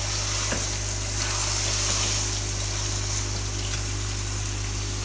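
Onions frying in a pan for Punjabi chicken karahi, a steady close sizzle with a faint watery hiss and low hum underneath, continuous and without talk.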